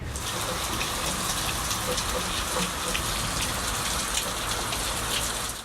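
Heavy rain pours down in the dark before dawn, a dense, steady, loud hiss of drops hitting surfaces with no pauses.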